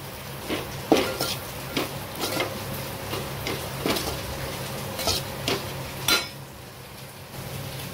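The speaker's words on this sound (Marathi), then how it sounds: "थोडं 5 मिनटं खाली वर खाली करून घ्यायचं" Sambar masala being stirred in a cooking pot, a spoon scraping and knocking against the metal in an irregular rhythm of soft clinks over a low steady hiss.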